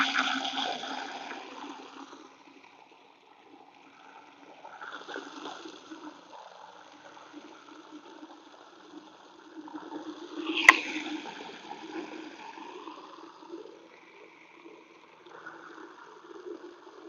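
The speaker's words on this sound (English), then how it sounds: "Getting ready to clean out this water dish" Water sloshes and splashes in irregular bursts as a chicken's water dish is emptied and rinsed outdoors in the rain, fairly faint and uneven, with one sharp knock midway.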